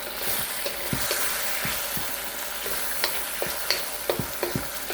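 Steady sizzling of zucchini stir frying in a hot pan, with light scraping and clacking of a utensil at irregular intervals.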